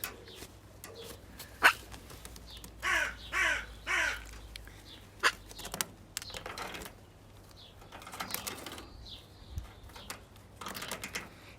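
A crow calling outdoors on a cold, still day: a sequence of loud, harsh caws in short bursts, mostly in the first half, with quieter clicks and rustles between in otherwise calm surroundings.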